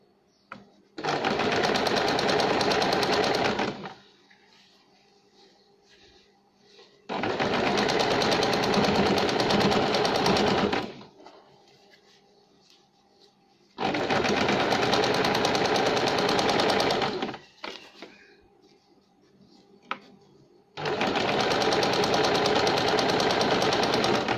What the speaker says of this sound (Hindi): इस तरह से हमने एक साइड सिलाई दे दी।